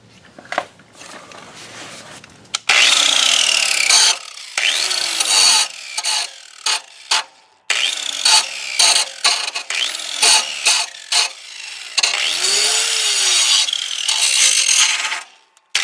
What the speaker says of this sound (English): I still gotta do some more grinding